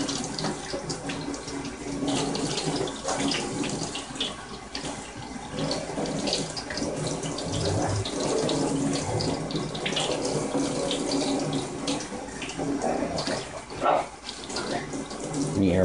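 Steady running tap water splashing over a filter bag of activated carbon being rinsed, continuous and close, with occasional soft handling sounds.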